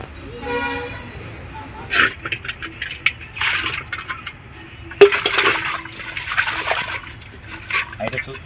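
Small fish being rubbed and rinsed with water by hand, with bursts of splashing and sloshing coming in irregular clusters at close range, mixed with some handling noises.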